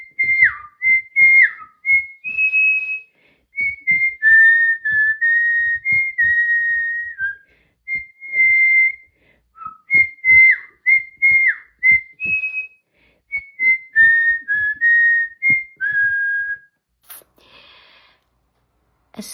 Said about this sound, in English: I am trying to teach Hazel a song, a whistly song. So here's what